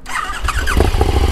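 A sport motorcycle fitted with an aftermarket exhaust revs hard and loud nearby, its pitch climbing and surging in rapid bursts with a raspy exhaust snarl.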